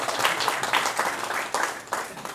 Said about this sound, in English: Can I have a round of applause for my beautiful mother-in-law,